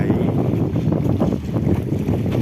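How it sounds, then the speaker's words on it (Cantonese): Sea breeze gusting across the Kai Tak waterfront in Hong Kong, a steady, close rumble of wind buffeting the microphone with a faint wash of water beneath, continuous and without speech. "感覺一下海風吹向你塊面，吹向你身體"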